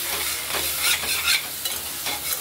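A spatula scrapes and stirs vegetable chhenchki in a wok over a steady frying sizzle, with several rhythmic scraping strokes close by and no talking.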